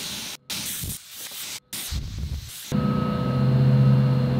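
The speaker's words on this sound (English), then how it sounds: "I'm gonna deflate the tires to 20 PSI, all four tires" Air hissing from vehicle tires being deflated toward 20 PSI, in close, loud bursts of spraying hiss cut by short silent gaps, then a steadier droning hiss with a tonal hum.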